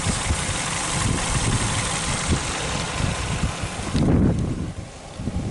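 A car nicknamed "The Red Baron" idles steadily up close, a low rumbling hum with some wind buffeting, during a check after work on snapped valve cover bolts.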